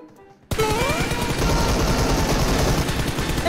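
AK rifle fire in PUBG Mobile bursts in suddenly after a quiet moment and then keeps going as a loud, dense, continuous automatic stream.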